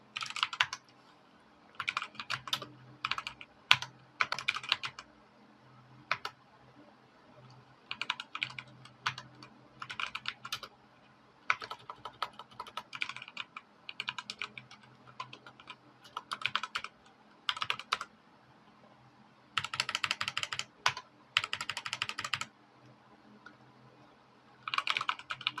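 Typing on a computer keyboard while filling in an employee data form in business software, bursts of rapid close key clicks separated by brief pauses, with no talk.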